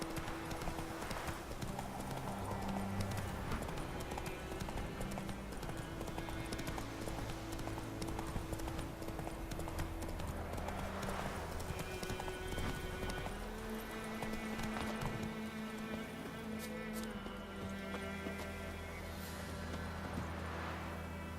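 Roach the horse trotting in The Witcher 3, rhythmic hoof clip-clops going on without a break under a game music score and ambient sound, moderately loud and close.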